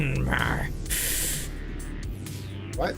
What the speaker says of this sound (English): That's the sound of me getting sucked up by the hypertube.